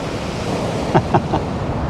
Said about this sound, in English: The rods are just bouncing away in the waves.